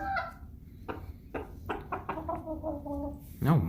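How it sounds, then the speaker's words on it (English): Chickens near their sand bath give a string of soft, short clucks, several separate close calls spaced across a few seconds, ending in a louder rising squawk-like note. "Lots of little clucking noises."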